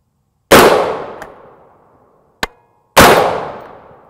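Two loud 5.56x45mm rifle shots firing 62gr M855 green-tip FMJ Winchester ammunition, about two and a half seconds apart, each a sharp crack with a long fading echo, and a short click between them.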